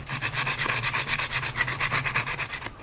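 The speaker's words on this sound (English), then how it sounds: "Then I'll go over it with some 320." Steady back-and-forth sanding of a car steering wheel with 320 grit sandpaper, a close, continuous rhythmic scratching rub with no talking.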